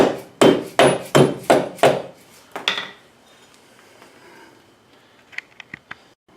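Hammering to free the half shaft from the wheel bearing on a Saturn Ion with a GM-style hub, six sharp ringing metallic blows in quick succession, then one more, followed by faint clinks.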